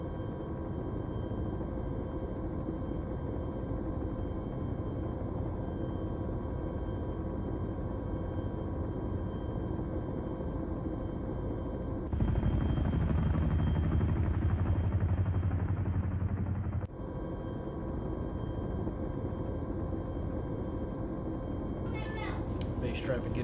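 A military aircraft engine in a video game drones loudly and steadily at take-off, its tone shifting and thickening briefly partway through before settling back into the same constant roar.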